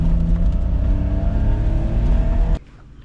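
A Suzuki Cara kei car with an overheating problem and failed head gasket drives along, its engine droning steadily and close before the sound cuts off sharply near the end.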